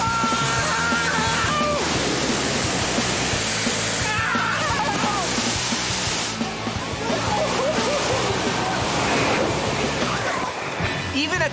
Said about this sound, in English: your body follows the path of the gushing water flume, like this